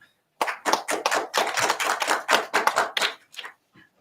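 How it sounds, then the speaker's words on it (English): A small audience at an English speech contest claps for a speaker, a burst of close, dense hand claps that swells for about three seconds and then thins to a few scattered claps. "let's give him a big applause"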